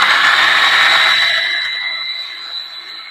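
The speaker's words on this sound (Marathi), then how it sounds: "चला आता हे आपण मिक्सरला बारीक करून घेऊया।" A kitchen mixer grinder runs on coconut chutney with a little water, a loud high-pitched motor whine that holds steady and then winds down and fades.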